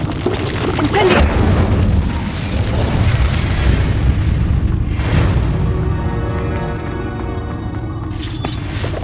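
Incendio fire spells cast in the Hogwarts Legacy video game during a fight with a giant spider, a loud continuous roaring burst of flame and blasts with a booming low rumble, while a voice talks over it.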